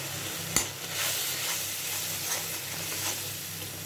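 Ground spices (chili, coriander, turmeric, cumin) with salt frying in a pan for paneer curry, a steady close sizzle with stirring scrapes and one sharp utensil knock early on.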